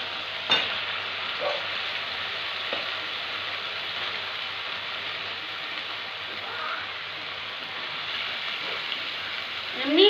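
Washed meat being stir-fried for kasha in a pan, a steady hissing sizzle with a few scraping stirs and clinks, no talking.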